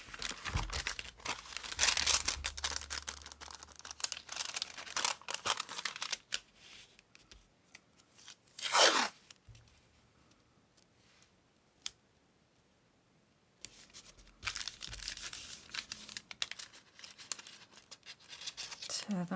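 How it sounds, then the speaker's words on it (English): Old paper, including pages from a Jane Austen novel, torn and crumpled by hand for a junk journal, with bursts of ripping, crinkling and handling noise, a quiet stretch, and a sharp click. "Tear that bit off the top."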